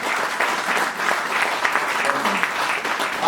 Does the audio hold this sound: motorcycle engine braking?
no